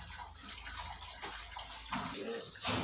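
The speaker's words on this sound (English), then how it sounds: "After back flushing of pre-filter, now we have done forward flushing by applying input water at input side and drain water from output side" Water rushes steadily through a Livpure purifier pre-filter during forward flushing, fed in at the input side and drained from the output, a continuous close splashing flow with gurgling surges near the end.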